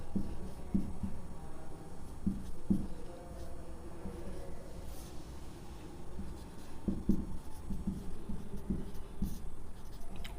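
Chalk or marker taps and scratches on a classroom board in irregular short bursts, moderately close, over a steady room hum during a B.Ed lecture.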